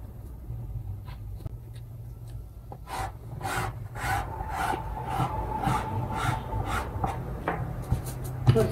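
Scratchy rubbing strokes of a marking tool on fabric while measuring out a sewn shirt, repeated short rasps at an uneven rhythm over a low steady hum, close and moderately quiet.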